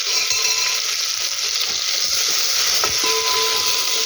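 Onions sauté in a pan with coriander and curry leaves for a Tamil kulambu, giving a constant, close, dense sizzling hiss that runs evenly throughout.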